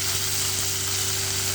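Onions sizzle steadily in a pan with a pinch of salt, a continuous close frying hiss with a low hum underneath and no voices.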